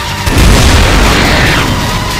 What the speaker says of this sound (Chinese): 前面有爆炸。